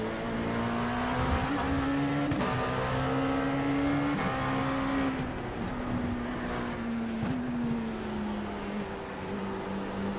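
Race car engines in the iRacing sim during an IMSA round at Charlotte, with an LMP2 and a Porsche on track: a steady droning engine tone that rises and drops through gear shifts, loud and continuous.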